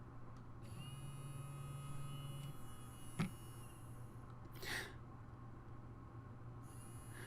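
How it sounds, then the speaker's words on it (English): A small DC motor on a lab circuit board whines faintly over a steady electrical hum, its high buzz cutting in and out as it switches on and off at intervals of a few seconds. "you'll be able to hear the motor as it turns on and off"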